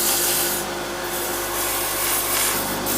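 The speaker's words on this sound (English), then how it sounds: "I'll hit it with a little bit of sandpaper" Sandpaper rubbing across a wooden lantern ornament in a steady abrasive scrape, with brief louder hissing strokes now and then; close and continuous, no talking.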